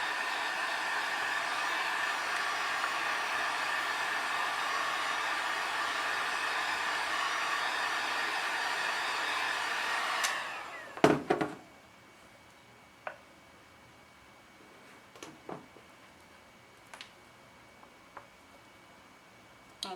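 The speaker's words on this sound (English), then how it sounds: "I'm just going to go again very briefly with the heat gun" A heat gun blows a steady, loud whirring rush of air over chocolate for about ten seconds, then cuts off, leaving a few clinks and taps in the quiet that follows.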